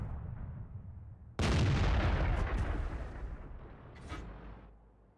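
A single heavy artillery shot in the tank video game World of Tanks booms loudly out of a low rumble, then rolls off into a long decaying echo with fainter later cracks.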